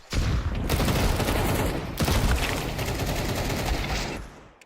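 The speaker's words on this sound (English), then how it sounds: "they're just shooting me relentlessly" Sustained, relentless automatic gunfire in a Counter-Strike match, loud and dense with overlapping bursts for several seconds, one brief pause near the two-second mark, then tapering at the end.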